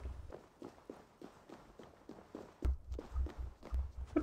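Rhythmic horse hoofbeats in the video game Assassin's Creed Valhalla, clopping along at a steady pace, growing heavier and nearer partway through, with no talking.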